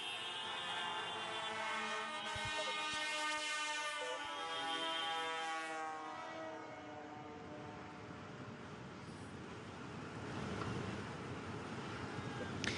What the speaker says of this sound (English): there is no point in me trying to talk over a load of horn-blowing tractors